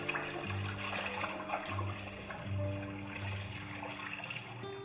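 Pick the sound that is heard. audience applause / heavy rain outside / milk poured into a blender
milk poured into a blender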